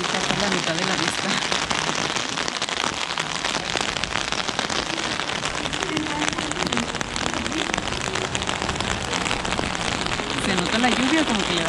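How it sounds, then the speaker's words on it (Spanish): Rain falling in Prague's old town square, a steady dense patter on surfaces filling the whole stretch, with crackly drops throughout and faint voices underneath. "La lluvia como que le da ese toque más gótico."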